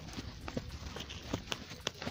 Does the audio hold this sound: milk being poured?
no